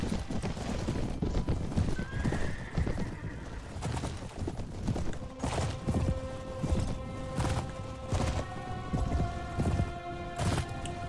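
Horses in the PC game Mount & Blade: Warband, hooves clip-clopping at a gallop with a sharp neigh, amid battle noise and scattered thuds, moderately quiet and steady.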